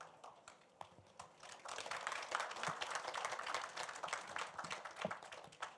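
An audience applauds at the close of a Jeonnam education forum panel, a quiet start swelling into steady, fairly distant clapping from many hands that carries on for several seconds.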